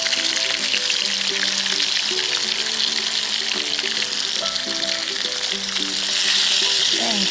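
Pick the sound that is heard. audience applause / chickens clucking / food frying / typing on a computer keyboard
food frying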